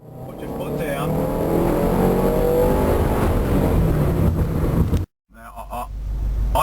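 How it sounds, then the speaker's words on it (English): A Subaru STi automatic (MY11) exhaust roars louder and louder under hard acceleration, close and loud, then cuts off abruptly before a rough engine note returns. "improve the, how do you describe it, the audible ambience of the exhaust system"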